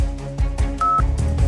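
Telephone keypad dialing tones, a rapid rhythmic series of distinct beeps in a steady sequence, loud and clear with no talk.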